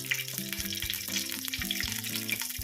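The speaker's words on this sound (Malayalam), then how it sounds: "ഇതൊന്ന് നന്നായിട്ടൊന്ന് എണ്ണയിലൊന്ന് വഴറ്റാം." Four green chillies, slit down the centre, sautéing in hot oil for chicken biryani: a continuous soft sizzle and crackle, close by and fairly quiet.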